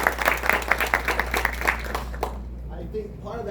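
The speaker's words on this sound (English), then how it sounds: "salva de palmas por gentileza" A burst of hand clapping from a lecture audience for about two seconds, then fading out as a voice speaks.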